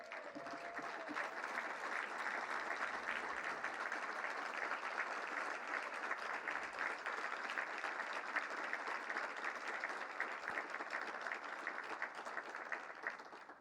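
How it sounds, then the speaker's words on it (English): Former Rose Queens stand as an audience gives them a sustained, even round of applause, a continuous dense clatter of many hands at moderate volume without pause. "Queens, if you could please stand up so we can give you a round of applause."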